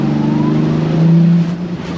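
Turbocharged 2JZ engine in a Nissan 240SX street car spooling up, a loud, close, steady engine drone with a tone that rises and swells briefly near the middle.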